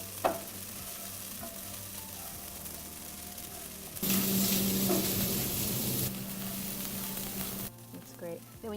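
Food sizzles and fries in a pan while being stirred, a steady crackling hiss that grows louder and brighter midway with scraping stir sounds, then settles down again.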